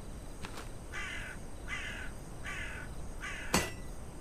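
Crows caw in the video game Folcroft Monastery: four evenly spaced calls sound at a moderate distance over a faint background, with a sharp click near the end.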